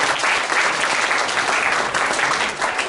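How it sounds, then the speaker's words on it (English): A room of attendees at a sustainability poster competition gives a round of applause for the winners and participants, dense, even clapping sustained throughout without any voices. "Let's have one more round of applause for the winners and for all the participants."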